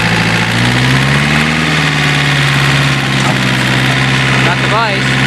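A John Deere 970 diesel tractor engine idles close by with a steady, throbbing rumble that stays even throughout, while a brief faint voice-like sound rises near the end.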